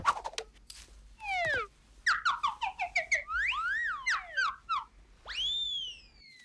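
A rapid series of warbling whistled tones from a cartoon character, sliding up and down in quick chirps and swoops, loud and close with brief gaps between phrases.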